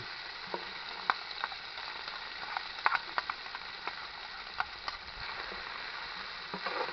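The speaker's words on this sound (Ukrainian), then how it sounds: "Доки буде висмажуватися грудинка, цибулька якраз трішки підсмажиться." Onion and pork brisket fry together in a pan, making a quiet, steady sizzle dotted with small crackles and light clicks of stirring.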